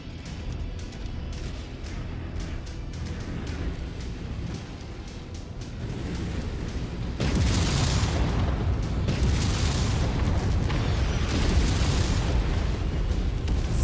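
Artillery shells pounding down in the mech combat game Mechwarrior 5, a dense, continuous rumble of explosions that grows louder and heavier partway through, with repeated booming bursts and no voices.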